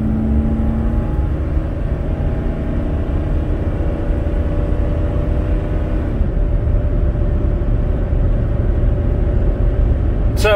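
A 2005 Ford F-150 XLT with the 5.4 Triton engine pulls a light trailer on the freeway at about half throttle, a steady loud low rumble and drone of engine and road noise running throughout, with a faint tonal whine near the end.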